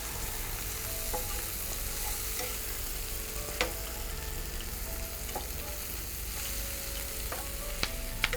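Shredded cabbage fries in a pan for dan gauda dumplings, giving a soft, continuous sizzle over low heat with a few faint clicks and taps from stirring, and no voices.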